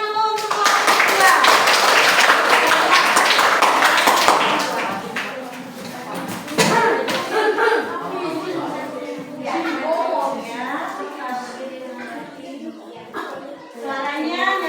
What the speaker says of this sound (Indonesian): silakan tepuk tangan dulu untuk kelompok kedua.